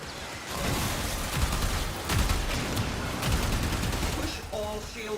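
Railjack ship weapons and torpedoes in Warframe fire as a continuous rattle of shots and thudding impacts, steady and loud, with short tonal game signals toward the end.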